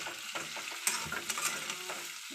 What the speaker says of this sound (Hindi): एक सब्जी को बना रहे हैं, फ्राई कर रहे हैं।